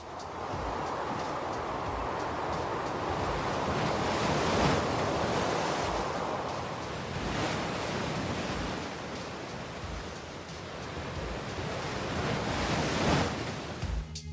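Large winter ocean waves break in a heavy, roaring wash that swells and recedes, loud and continuous, with wind buffeting the microphone and no voices.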